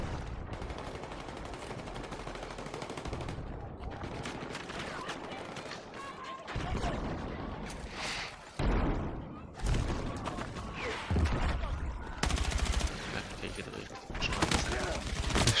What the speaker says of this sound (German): Schießen uns da RPGs rein.